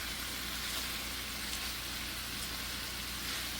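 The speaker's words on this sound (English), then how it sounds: "is cutting up the sausage and frying it up" Cut-up sausage frying in a pan, a steady soft sizzle with a constant crackling hiss, close and quiet, no one talking.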